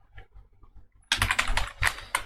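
Code typed on a computer keyboard, a quiet patter of soft taps at first, then a burst of loud, rapid, close keystrokes clattering in quick irregular rhythm.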